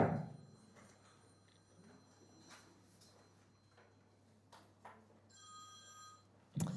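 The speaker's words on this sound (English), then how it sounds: "If we can turn off the phones except that phone." An office or lecture-room telephone rings with a steady electronic bell tone near the end, faint and somewhat distant over a quiet room hum.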